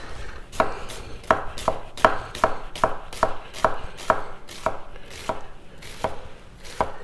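A Takamura kitchen knife slices food on a cutting board in a steady run of about fifteen crisp, close chops, roughly two per second, each ending in a sharp tap on the board, with no speech.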